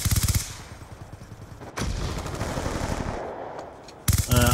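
Rapid bursts of submachine gun fire from Call of Duty Black Ops 2 gameplay, sharp repeated shots at the start and end with a rumbling, noisy game soundscape between them, no talk.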